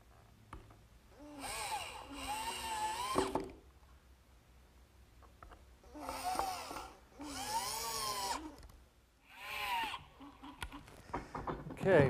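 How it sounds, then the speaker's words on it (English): A power screwdriver drives screws to fasten a wooden piece to a frame, whining in several bursts that rise and fall in pitch, with quiet gaps between them. "I'm ready to set this piece in place and fasten it to the frame with some screws."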